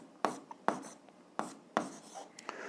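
Pen or chalk writing out a math answer in a 7th-grade algebra lesson, with four sharp stroke onsets and short scratchy marks between them, close and fairly quiet, no talking.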